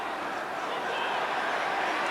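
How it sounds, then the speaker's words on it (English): Dense, continuous roar of a football crowd backing Rangers against Auxerre, a broad, steady wall of massed voices with no breaks. "the crowd trying to lift Rangers"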